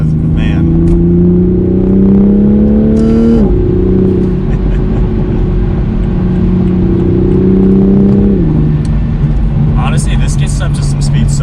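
A car accelerates hard and climbs through gears with a loud, rising engine drone and two clear shift drops. A few faint exhaust pops crackle near the end.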